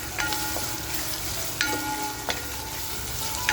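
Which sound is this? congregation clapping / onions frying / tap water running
onions frying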